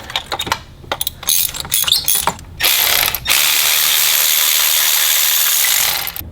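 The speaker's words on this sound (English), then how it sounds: "And right here we got our special spark plug socket removal tool from Burger Tuning." Ratchet wrench with a spark plug socket removing spark plugs from a BMW 335i N54 engine: quick bursts of close, sharp pawl clicking, then a steady loud rasping ratchet run lasting several seconds before stopping.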